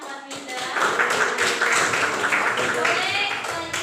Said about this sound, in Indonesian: Tepuk tangan buat Linda